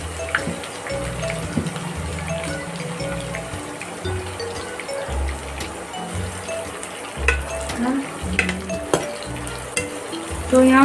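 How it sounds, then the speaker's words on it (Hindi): Onions frying in hot oil with fennel and nigella seeds give a loud bubbling sizzle, overlaid by rhythmic stirring scrapes and spoon knocks against the pan. "यहाँ मैंने प्याज डाल दी है, और इसको मैं खूब अच्छे से लाल कर लूँगी"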